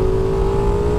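A Ducati Diavel V4 motorcycle engine drones at a steady pitch, a loud, continuous mechanical hum heard briefly while riding.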